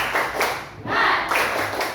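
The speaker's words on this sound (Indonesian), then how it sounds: "Tepuk semangat" A group of students or teachers claps in a rhythmic spirit-clap icebreaker during a classroom lesson, with crisp bursts of clapping in a patterned beat and short pauses between the groups of claps.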